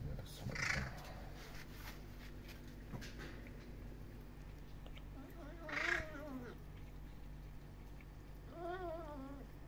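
A small kitten in a garden gives three separate meows spaced a few seconds apart, close and fairly clear, with faint background noise between the calls.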